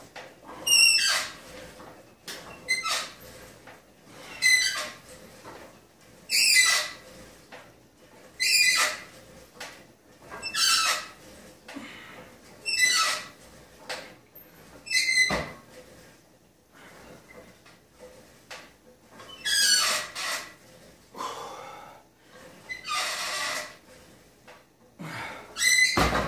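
A seated weight machine press squeaks loudly on each rep, about a dozen sharp, regular squeals over a steady rhythm, close by with no talking.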